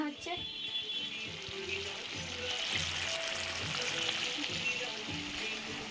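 Biryani spice masala fries in a home kitchen pan with a continuous close sizzle, overlaid by domestic chatter and a voice in the background.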